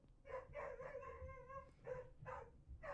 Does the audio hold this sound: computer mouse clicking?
no